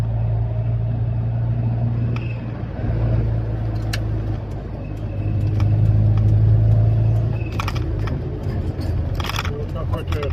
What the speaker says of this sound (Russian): Газ даю, скрип.